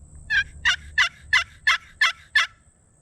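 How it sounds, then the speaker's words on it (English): Seven evenly spaced raspy turkey yelps from a wooden box call, each a short two-note rasp, loud and close, with a faint low hum underneath. "And a yelp just sounds like this."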